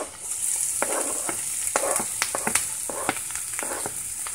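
Chopped onion sizzles in a hot pan for a smoked red herring and butter bean breakfast, a constant close frying hiss broken by repeated short scraping knocks as the food is stirred.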